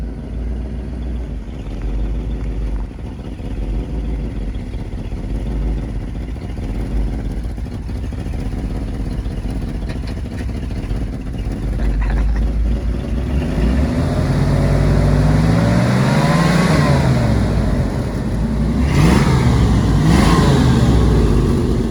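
A 1987 Chevy Silverado pickup engine, restarted after sitting six years, runs with a steady rumble and then climbs into louder, rising revs, heard up close with no talking.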